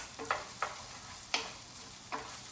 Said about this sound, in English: We're just going to toast it like we would rice